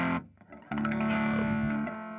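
A guitar played through a Fender 5F1 Champ clone tube amp with its negative feedback switched fully off. One strummed chord rings loud and sustained with a rich, open overdriven tone, following a brief muted attack.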